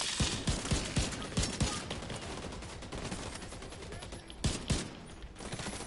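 Rapid shotgun blasts in the video game The Division 2, a string of loud, sharp booms in quick succession through the first half, then a few more heavy shots near the end over steady background game noise.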